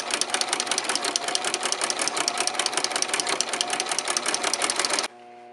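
A home sewing machine fitted with a ruffler foot stitches a ruffle in a fast, even mechanical chatter of rapid needle strokes, running steadily for about five seconds before stopping abruptly.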